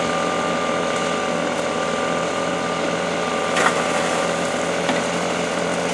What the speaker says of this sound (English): Girls running the dry washer.